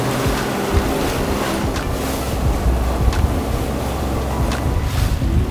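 Ocean waves surge and slap around a moving sailboat, a loud constant wash with heavy wind rumble on the microphone and occasional sharper splashes against the hull, no voices.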